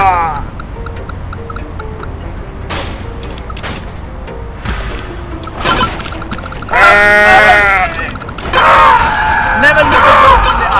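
A goat in the Goat Simulator video game bleats loudly in several wavering cries near the end, after scattered thumps and clicks, with a voice speaking over part of it.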